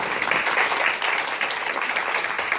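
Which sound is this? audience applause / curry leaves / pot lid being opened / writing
audience applause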